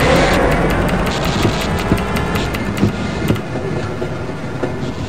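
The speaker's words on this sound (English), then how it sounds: "Press your use key to engage the train. Once engaged, move forward or backward to increase or decrease the speed of the train." A train rolls along in Half-Life: Blue Shift with loud, steady rumble and rhythmic clickety-clack wheel beats, close and continuous, fading slightly toward the end.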